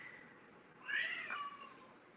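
A pet cat gives one drawn-out, fairly faint meow a short way off against a quiet room, with no one speaking.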